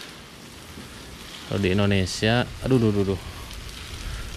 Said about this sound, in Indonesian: Jadi daunnya harus disiram gini